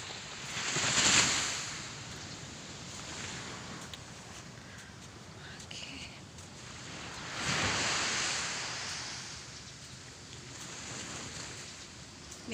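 Morning ocean waves on a beach in Lombok, two broad surges of surf rising and fading between quieter stretches, with wind noise across the microphone and no talking.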